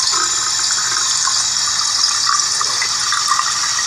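Water runs steadily from a tap in a room, a constant loud hiss and splash with no talk.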